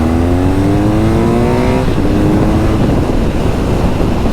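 A BMW R NineT Scrambler motorcycle pulls out of a junction, its engine note rising steadily in pitch under acceleration, then shifting gear near two seconds, loud and close amid heavy wind rush.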